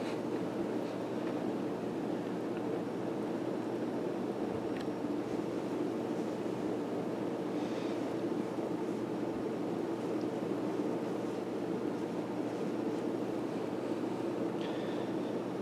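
A dusty rose Casablanca Delta II ceiling fan runs steadily at power, giving a continuous, even whoosh of moving air and motor hum with no talking.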